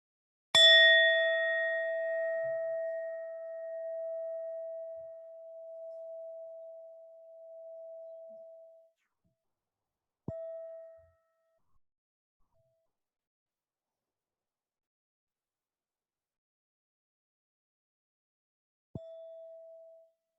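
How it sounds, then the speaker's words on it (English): A meditation bell is struck once and rings out with a long, pure, slowly fading tone, followed by two softer, shorter strikes spaced far apart in near silence. "Just listening to the sound of the bell now."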